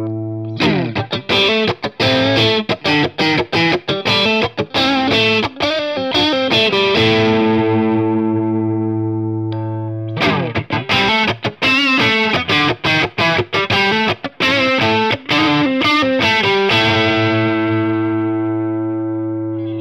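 Fender electric guitar played through distortion and chorus-style effects, loud strummed and picked chords in quick rhythmic bursts over a sustained low drone, two similar phrases separated by a short pause, with no talking.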